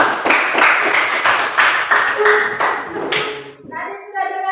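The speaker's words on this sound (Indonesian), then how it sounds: "Terima kasih, tepuk tangan." Pupils clap in a vocational high school classroom at SMK Negeri 1 Atadei, a loud, steady rhythmic applause lasting about three and a half seconds before it stops and a voice follows.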